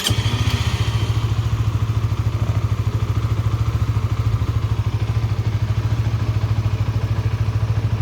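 A Honda CBR 150 motorcycle fitted with a push start system runs with a steady, close, loud engine putter, its rapid even firing pulses continuing throughout.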